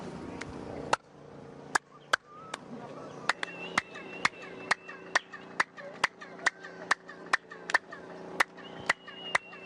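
Sharp handclaps repeat a dozen or more times at a steady, close rhythm, each followed by a ringing, springy boing-like echo that lingers between claps.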